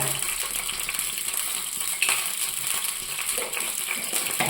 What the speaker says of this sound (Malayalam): ഇനി നമുക്ക് കടുക് തളിക്കാം